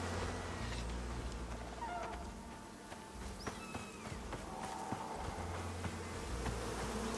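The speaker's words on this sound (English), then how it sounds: "Ah, bees, bees!" Bees buzz loudly while chasing the player in the game Icarus, a constant insect drone mixed with running footsteps and rustling, with no speech.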